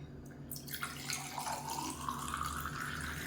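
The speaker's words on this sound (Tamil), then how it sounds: "இப்போ எதோ ஒரு கிளாஸில் ஊற்றிக்கலாம்" Homemade amla buttermilk juice pours into a glass as a soft, close liquid stream, starting after a short pause and rising slightly in pitch as the glass fills. The pour is quiet and nobody speaks.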